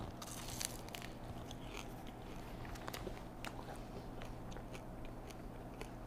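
Close crunching bites and chewing of pan-fried brown trout caught from Pennypack Creek, a steady run of crisp crackles over a low background hum, with no talking.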